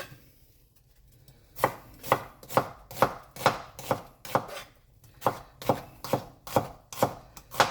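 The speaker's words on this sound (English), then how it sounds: "really fine dicing, you just leave one end of the onion on, and then it holds it all together" A sharp kitchen knife finely dices an onion on a cutting board, after a quiet start a steady run of crisp, evenly spaced chops, close and clear, with no talking.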